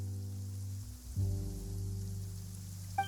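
Steady rain hiss falling during an indoor scene in Genshin Impact, a soft, even wash under a low hum, with a brief faint click near the end and no voices.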